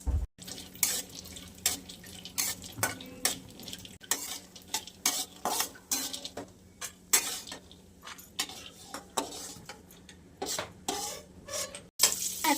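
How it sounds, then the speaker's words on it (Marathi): Cashews and almonds being dry-roasted in a little ghee, stirred with a spoon in a pan: a steady run of scraping, clattering strokes over a faint sizzle, close and fairly quiet, no voices. "तर आपण आहे ना हे काजू आणि बदाम भाजून घेणार आहे."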